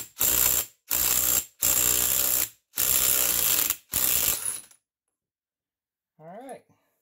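A ratchet wrench with a 27 mm socket turns a nut on a Beta motorcycle's oil pump gear assembly, with five loud, close ratcheting bursts separated by short pauses, then silence and a brief faint voice.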